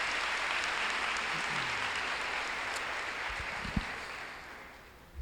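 Church congregation applauding during a worship service, a steady broadband wash of clapping that holds for several seconds and tapers off near the end, with a few low thumps.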